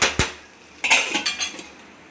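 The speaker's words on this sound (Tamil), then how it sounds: "இப்போ மூடி வச்சிடலாம்." A lid is set on a cooking pan of brinjal being sautéed with turmeric, giving a few sharp metallic clanks and clinks close by, one early impact followed by a short cluster of rattling taps as it settles.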